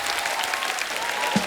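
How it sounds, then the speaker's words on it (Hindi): A studio audience on a Hindi comedy talk show applauds steadily, a dense wash of many hands clapping at even loudness throughout, with no talk over it. "जोरदार तालियां एक बार ट्रेलर के लिए।"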